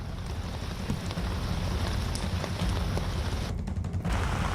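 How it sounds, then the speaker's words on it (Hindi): Steady rain falling in East Delhi's Vasundhara Enclave after a night of continuous downpour, a dense, even hiss of drops on surfaces that holds at constant loudness throughout, with no voices over it. "लगातार रात से बारिश हो रही है दिल्ली में, सुबह से भी बारिश हो रही है"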